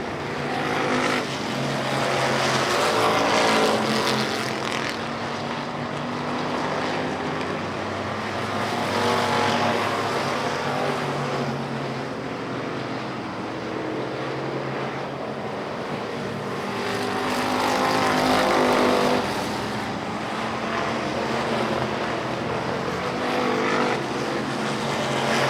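Dirt track race cars roar around Victory Lane Speedway in Manitoba, a dense, continuous engine drone that swells and recedes in slow waves as the pack circles the oval.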